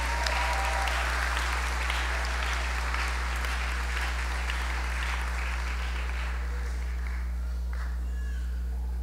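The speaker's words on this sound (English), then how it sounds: "Let us give them a rousing round of applause" A graduation ceremony audience applauds steadily for a high school class, a dense wash of clapping that carries on and gradually thins toward the end, over a low constant hum.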